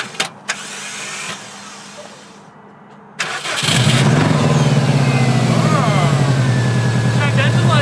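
A turbocharged Subaru WRX cranks and fires, starting after a few clicks and a short quiet pause, then settles into a loud, steady, close idle with a rising rev. Voices are heard before it starts.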